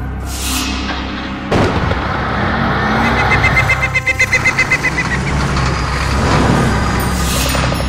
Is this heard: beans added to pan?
no